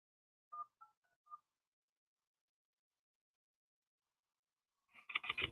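A short burst of telephone keypad dialing tones, four quick beeps spaced irregularly, clear and isolated against silence, followed after a pause by a louder recorded voice message.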